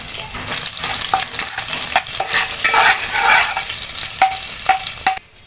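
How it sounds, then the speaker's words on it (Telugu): Loud, continuous sizzling of onion frying in oil for a tempering for amla rice, with occasional scraping stirs of a spatula against the pan before it quiets at the end. "పోపులో అయితే వేయించుకోవాలి"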